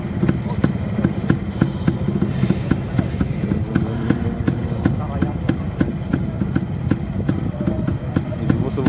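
An old motorcycle engine runs at a motorcycle season-opening rally in Pelplin, giving a fast, steady ticking beat close by with a busy outdoor crowd murmuring behind it.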